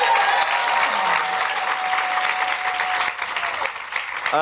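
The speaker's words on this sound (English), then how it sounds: "Round of applause, please, for Nina." An audience at a book talk applauds warmly for a few seconds, a dense, steady wash of clapping that thins out toward the end.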